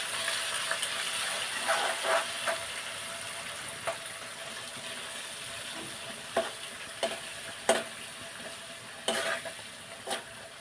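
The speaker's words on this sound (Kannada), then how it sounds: "ಇದು ಸ್ವಲ್ಪ ಫ್ರೈ ಆಗಲಿ ಎಣ್ಣೆ ಒಳಗೆ." Peanuts frying in oil for bendekayi chitranna, a okra rice dish: a low steady sizzle, fairly quiet, with occasional sharp clicks of a spoon stirring the pan, no talking.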